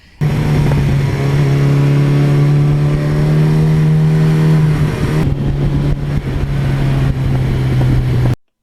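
A 1982 Suzuki GS1100E motorcycle engine revs close by, a steady strong harmonic drone that holds loud and even, then shifts slightly lower and rougher partway through before cutting off at the end.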